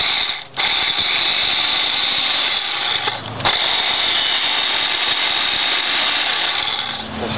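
A McCulloch 2.5-horsepower electric chainsaw cuts through wood with a loud, steady, close-up whine that dips briefly twice as the blade eases, then keeps running without talk.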